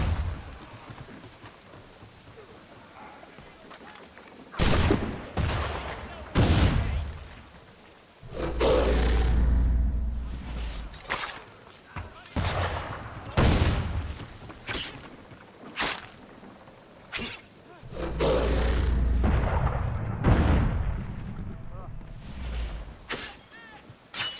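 Sniper rifles firing in the action game Assassin's Creed III, with heavy booming shots spaced irregularly among thunderous blasts and rumbling battle noise, loud and close.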